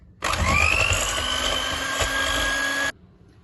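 An electric hand mixer whirs steadily while beating egg yolks for crème brûlée, a loud close motor whine holding for under three seconds before cutting off.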